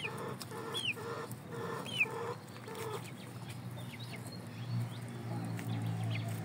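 Gamecock chickens cluck and call inside a coop, with several close, repeated clucks early and quieter calls over a low background murmur.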